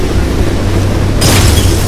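A video game explosion in Hatred during a train level, a deep rumbling boom that swells into a bright burst partway through, loud and close over a continuous low roar.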